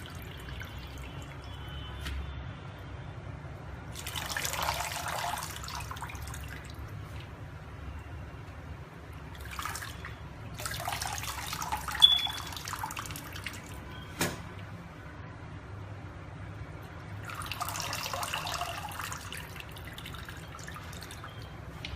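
Ugu leaves being rinsed under a running tap while making Edikaikong vegetable stew: three separate bursts of water splashing and trickling, each a few seconds long, with low kitchen background noise in between and no talk.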